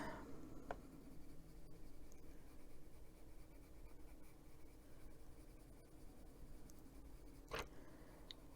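A blue colored pencil shades lightly across paper, giving a soft, steady, close scratching that runs continuously and quietly, broken by a couple of tiny ticks.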